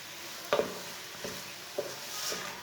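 A spoon stirs carrot halwa in a cooking pot, giving a few soft, separate scraping strokes spaced about a second apart, faint and close, with no voices.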